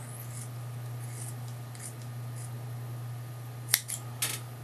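Linking bands for a Cumberland wind generator being cut, two quick crisp snips near the end over a steady low hum, faint and close.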